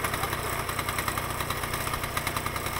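A Krot motor cultivator, set up for winter, runs nearby with a steady, rapid, pulsing engine chug that never lets up. No one speaks.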